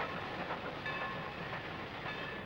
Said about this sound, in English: One last look at an SN freight heading west, nearly at the Walnut Creek station.